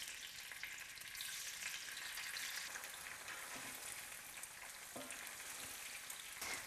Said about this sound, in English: You can hear it sizzle.